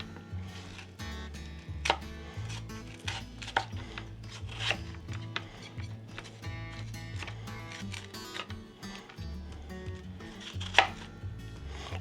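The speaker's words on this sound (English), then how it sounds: "And what I do is slice my peppers." Garden peppers sliced with a knife on a cutting board, steady close chopping taps repeating at a brisk, slightly uneven pace for twelve seconds, with no voices over them.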